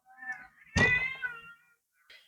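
A cat meows with a clear harmonic wail, then a louder, rougher yowl; a brief faint sound follows after a pause.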